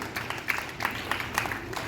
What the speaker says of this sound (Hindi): भूमिका जसरोटिया के लिए भी तालियों से स्वागत होना चाहिए